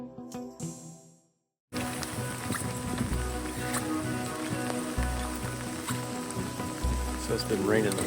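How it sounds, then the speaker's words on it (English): Rain falls steadily on a surface outdoors in Alaska, a dense even patter with a low drone underneath, after a brief louder opening and a moment of silence. "So it's been raining the whole day while we've been out."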